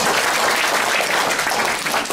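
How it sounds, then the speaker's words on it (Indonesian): A classroom group claps together during an icebreaking game, a dense, steady patter of many hands that holds evenly for about two seconds with no talking over it. "Tepuk tangan buat kita semua."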